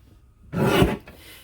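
A single close, short rasping swipe of a paper trimmer blade slicing through cardstock lasts about half a second, then falls to near silence.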